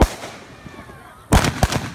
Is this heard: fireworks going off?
yes